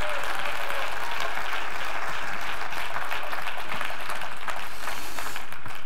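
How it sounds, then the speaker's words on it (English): A church congregation claps hands during a sermon, steady dense applause filling the space with no talk over it, loud and sustained throughout. "clap your hands if you believe that."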